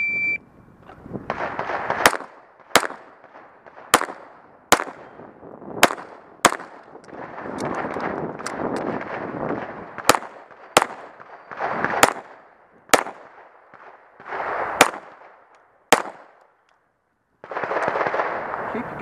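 Pistol shots crack sharply and loudly at a USPSA practical shooting match in Missouri's Bootheel, a rapid string of about a dozen reports in quick bursts, over steady outdoor background noise.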